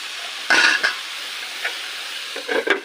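Taro leaves frying in a hot pan, a steady close sizzle with a couple of louder bursts of spatula scraping and clattering against the pan, no talk.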